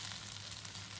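Soy sauce sizzling as it is stir-fried and tossed in a pan with noodles, a soft, even hiss over a low hum, brief and without speech.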